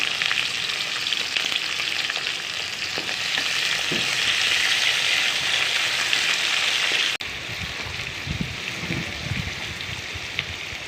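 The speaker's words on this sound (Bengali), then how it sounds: "এখন দিয়ে দিচ্ছি পেঁয়াজ" Chopped onions sizzle in hot oil in a pan while a crab dish is being cooked, a steady loud frying hiss with occasional stirring clatter and a brief break near the end.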